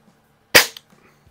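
A vintage 1920s Haenel Model 1 air rifle fires a single sharp, loud crack, followed by a brief faint click and then quiet.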